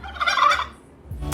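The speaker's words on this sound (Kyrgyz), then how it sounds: "Тооктун үнү чыгат. Индюктун үнү чыгат." A turkey gobble sound effect rings out loud and close as a show signal, one rapid rattling gobble call followed by a brief pause and a short burst of noise.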